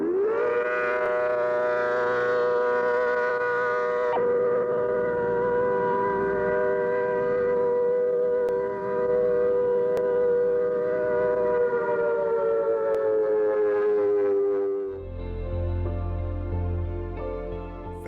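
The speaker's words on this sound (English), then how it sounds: "Here is a video of this unit from the late 70s ACA documentary when the siren was healthy." An ACA Hurricane civil defense siren in healthy condition, from a late-1970s documentary, wails loud and steady with a rich harmonic tone for about fifteen seconds, then cuts to a different lower, buzzier siren sound.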